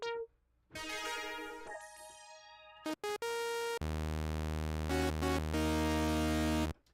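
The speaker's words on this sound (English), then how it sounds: "If you're trying to do like a big filter sweep type thing." A digital patch on an Oberheim synthesizer plays a series of loud, bright sustained tones, holding steady, stepping between pitches and cutting off abruptly, with a large block of rich buzzy harmonics near the end.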